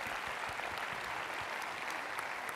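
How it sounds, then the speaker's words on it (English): An audience at an EFT tapping session gives a round of applause, a steady, fairly soft patter of many hands clapping without pause and with no talking on top. "round of applause for that."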